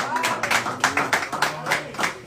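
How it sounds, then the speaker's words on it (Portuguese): Congregation in a church in Mogi Guaçu clapping in an uneven rhythm of roughly a dozen hand claps, moderately loud and close, with voices and singing running underneath. "Os irmãos puderem aplaudir, pode aplaudir Jesus."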